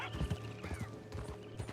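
Horse hooves clip-clopping in Red Dead Redemption 2, a quick irregular series of close hoofbeats with creaking tack and gear, alone without talk.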